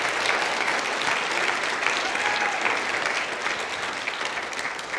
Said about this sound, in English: can we get a round of applause for this man right here